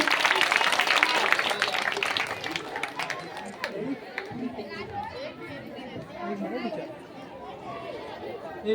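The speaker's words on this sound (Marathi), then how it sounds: "सर्वांनी जोरदार टाळ्या एकदा वाजवायच्या आहेत." A school audience claps for a dance by first- to third-grade girls, a loud burst of applause in the opening seconds that thins into steady crowd chatter and talk.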